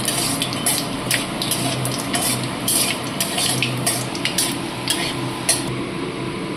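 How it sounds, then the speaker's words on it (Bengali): Dried red chillies and whole spices frying in mustard oil in a wok, giving a steady close crackling sizzle with light clinks and stirring scrapes throughout, no voices. "লঙ্কাটা একটু ভাজা ভাজা করে নেব।"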